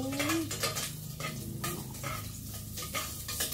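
Ginger sautés in a pan while a utensil stirs and scrapes against the metal, giving repeated clinks over a constant soft sizzle.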